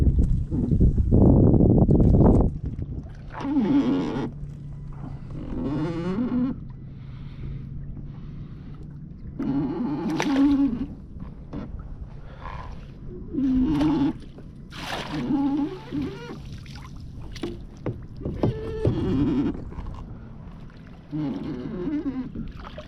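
The worn kayak trolling motor's turning mechanism grinds out loud in intermittent bursts over a low steady motor hum, with wind noise buffeting the microphone on open water.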